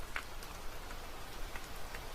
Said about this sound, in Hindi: झोंपड़ी के बाहर हल्की बूंदाबांदी अब भी हो रही थी।